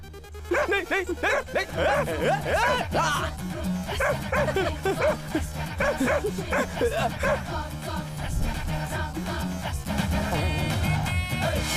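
Several dogs bark and yip in a scene from a Hindi-dubbed South Indian action film, a busy overlapping string of barks and whimpers that runs throughout, mixed with voices and music.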